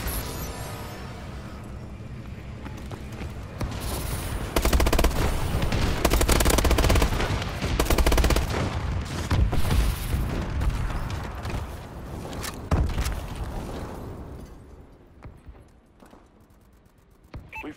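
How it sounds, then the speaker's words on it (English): Friendly bombing run in Call of Duty: Advanced Warfare online play, with loud rolling explosions and rapid gunfire building to a heavy barrage in the middle, then tapering off toward the end. "Friendly bombing run incoming."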